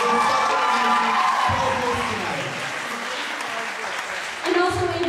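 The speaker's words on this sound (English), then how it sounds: "A big round of applause for Annabelle for her time and effort put into this event." Audience applause and cheering at a school teacher game show event, loud and continuous with voices shouting and calling over the clapping, swelling again near the end.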